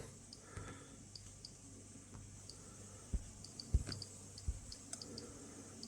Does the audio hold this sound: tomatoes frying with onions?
no